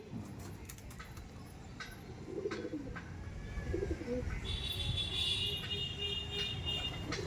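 Dobaj pigeons, male and female, coo softly in low, rolling calls close by, with faint chirps and a brief high whistle in the background.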